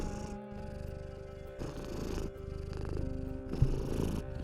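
A house cat purrs in a steady, close rumbling rhythm, with brief pauses between breaths and no talking.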